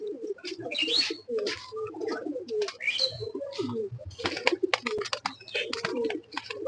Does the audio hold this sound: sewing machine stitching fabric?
no